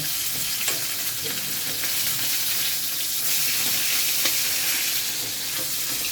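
Food frying in a pan with oil, a dense continuous sizzle and crackle, steady and close, with no talking.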